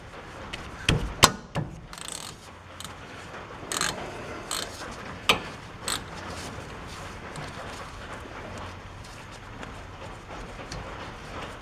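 Wrench working loose the two 13 mm caliper bolts on the rear brakes of a 2014 Chevy Silverado, a few sharp ratcheting clicks and metallic knocks near the start, then quieter scattered clicking alone.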